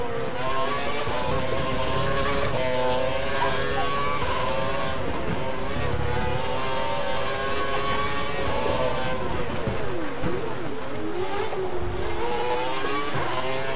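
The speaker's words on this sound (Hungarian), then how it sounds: "Az autó 270-nél többet nem megy az egyenesekben, nagyon lassú." F1 race cars from the F1 2012 video game at the Australian Grand Prix, a sustained high engine whine rising and falling through gear changes, loud and continuous with overlapping cars.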